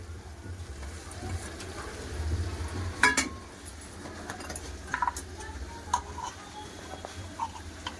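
Ghee being stirred into a curry in a pan: faint frying sizzle under a low hum, with scattered spoon clicks and taps against the pan, close by and without speech.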